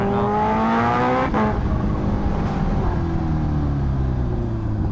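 Kawasaki H2R motorcycle with a carbon tank and no brake rotors, its engine loud and close as it rides, with a rising, revving engine note that drops back after a sharp shift, then a steady droning roar.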